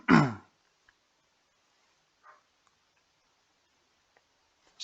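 A single short throat clearing up close, followed by near silence with a few faint clicks and a soft distant bump.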